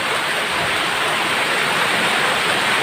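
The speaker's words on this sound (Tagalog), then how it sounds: "Malakas yung ulan." Steady, dense hiss of heavy morning rainfall in the rainy season, pouring down continuously, loud and close, with no voices or breaks.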